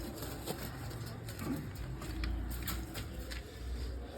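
A pigeon coos faintly at home against a noisy background of outdoor hum and passing traffic, with a few soft low calls and scattered light taps.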